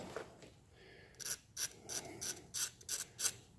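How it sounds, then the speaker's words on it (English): Metal engine part on a 383 engine build being rubbed down to remove a burr, a series of about seven short, faint rasping strokes in a steady back-and-forth rhythm, close by and without talk. "we'll rub that burr down"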